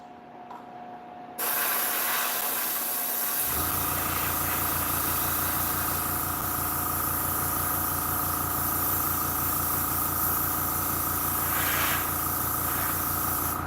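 Steady loud hiss of spray paint aimed into corners first, then across easier surfaces, running continuously after a brief quieter start, with faint mechanical clicking underneath.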